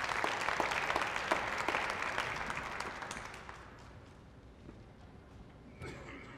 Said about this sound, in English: give the sponsors another round of applause